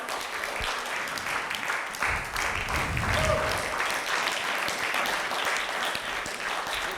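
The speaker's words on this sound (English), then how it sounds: "Let's keep clapping. Let's keep clapping." Audience applause at a Toastmasters impromptu debate contest as the winner is called to the stage, a steady wash of clapping from a large crowd lasting throughout, with a few faint voices underneath.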